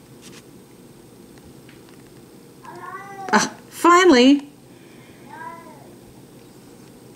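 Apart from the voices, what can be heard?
cat meowing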